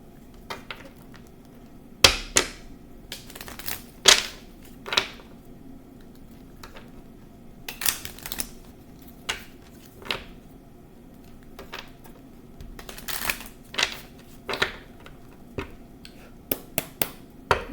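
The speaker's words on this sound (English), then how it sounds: "I'm going to shuffle." Sharp snaps and riffling bursts of tarot cards being shuffled, coming in irregular clusters close by, with quiet gaps between.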